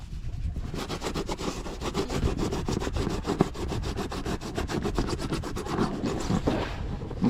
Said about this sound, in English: we're gonna go to work on scrubbing all the glue off of here